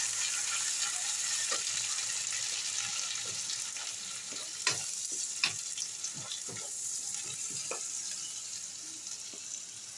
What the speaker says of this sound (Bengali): আদা বাটা, রসুন বাটা দিয়ে আবারও আপনি ফ্রাই করতে থাকুন।